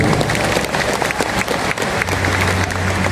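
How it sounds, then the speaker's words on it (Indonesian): A dense crowd of listeners at a company gathering breaks into loud, continuous applause that fills the room, many hands clapping at once with no clear beat. "Aplaus untuk perusahaan kita."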